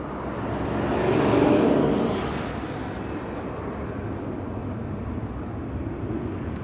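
Jet engine roar from KLM flight 895 to Shanghai at Amsterdam Schiphol Airport, heard from a distance. It swells to a peak in the first two seconds, then settles into a steady, dull rumble.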